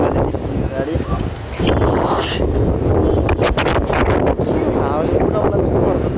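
Strong wind gusting around a bus stop on a Jaigaon to Hetauda trip, heavy buffeting roar battering the microphone in uneven surges, loud and close, with voices briefly audible underneath.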